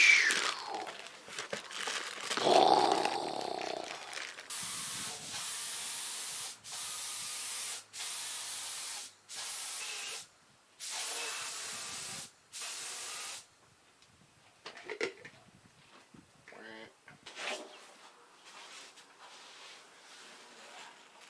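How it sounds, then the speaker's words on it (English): Etch primer sprayed from an aerosol can onto an aluminium roof rack for a Sprinter van, heard as a string of steady hissing bursts of about a second each with short gaps, then quieter rustling and handling noises near the end. "Spray the primer on, spray the black on"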